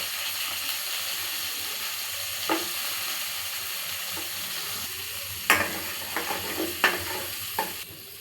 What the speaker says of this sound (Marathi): कांदा थोडासा भाजल्यानंतर त्याच्यात आपण काजू टाकूया